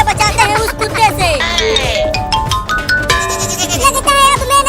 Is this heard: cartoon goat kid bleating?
yes